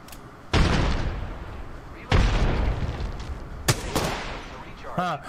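Gunfire in an Xbox shooter game: a few heavy, booming shots spaced apart, each trailing off into a rumble, followed by a sharper crack and some quieter clatter.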